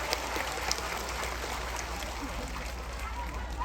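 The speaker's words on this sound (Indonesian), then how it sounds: "Sekali lagi tepuk tangan untuk Banser Taiwan." Crowd applause for Banser Taiwan at an Islamic religious gathering, a dense, steady wash of clapping throughout, with a low hum underneath.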